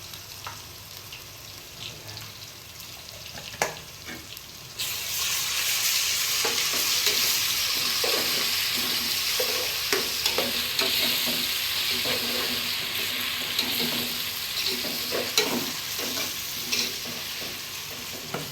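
Ginger paste goes into browned onions and a steady frying sizzle swells up after a quiet start, with frequent scraping stirs of a spoon against the pan continuing throughout.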